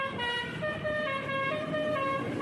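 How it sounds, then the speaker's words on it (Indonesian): A bus telolet horn sounds a sustained multi-tone musical chord, clear and fairly close, with traffic rumble underneath. "Klakson telolet aslinya terdiri dari 3 korong, dan suaranya akan berubah menjadi telolet jika ditekan lebih lama."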